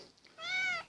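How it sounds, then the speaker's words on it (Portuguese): A pet cat meows once indoors near the microphone, a short, clear, rising-and-falling cry lasting under half a second over faint room noise. "É minha gata, ela tá aqui me incomodando."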